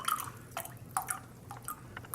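Water drips steadily in quick, light plinks from a soaked Laguna Seca badger shaving brush, close and fairly quiet with no talking.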